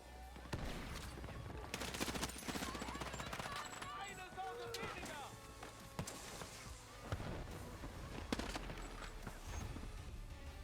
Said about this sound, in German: der Rest des Magazin in der MP-Sim. 30 Schuss ganz schnell weg irgendwie.